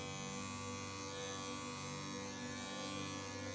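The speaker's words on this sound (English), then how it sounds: "So with that five blade, we're gonna start shaving over the point of the shoulder." Steady, continuous buzz of electric dog clippers fitted with a five blade shaving over a dog's shoulder during a field trim grooming, close and constant with a strong hum throughout, no talking.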